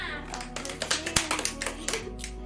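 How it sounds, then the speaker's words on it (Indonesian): Classroom applause from students after a quiz on river pollution: scattered hand claps, fairly close, building into an uneven patter for a couple of seconds amid room noise. "Oke, tepuk tangan untuk semua"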